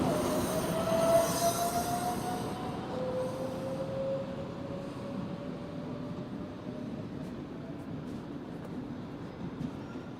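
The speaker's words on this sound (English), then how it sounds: "It doesn't hold as much passengers as the heavy rail, but it still runs pretty well" A light rail train in Brookline and Boston rolls past with a continuous rumble, its wheels letting out a thin, drawn-out squeal on the track; no voices.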